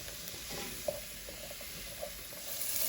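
Carrots, onions and garlic fry in a pan for tomato pasta sauce, giving a soft, steady sizzle with a few faint stirring taps, alone and without talk.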